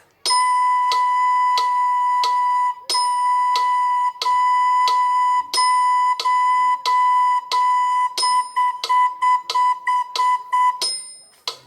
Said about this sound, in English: I'm going to play it on the recorder this time. I'm just going to play along to the metronome and hear how long the notes last for, okay?